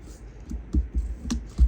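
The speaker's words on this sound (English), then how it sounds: "You leave your scissors in one spot and maneuver the cardstock around." Sharp scissors cut cardstock held in one spot while the card is turned, giving a series of crisp, close snips and clicks at an irregular pace in a quiet room.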